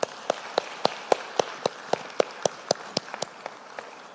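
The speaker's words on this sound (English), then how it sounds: "just give them a round of applause, please" Clapping at a national security cyber conference, heard as a steady series of sharp, evenly spaced claps about three or four per second. They sound distinct and fairly close, not a dense crowd roar, over a quiet background.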